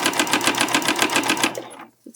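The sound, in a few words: sewing machine top stitching a fabric pouch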